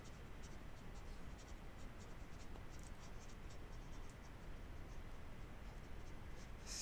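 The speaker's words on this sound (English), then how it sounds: "let me erase everything" An eraser rubs across a classroom board in a continuous faint, dry scratching that holds steady throughout, with no voices.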